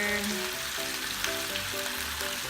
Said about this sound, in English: kind of searing the wings on one side before we marinate it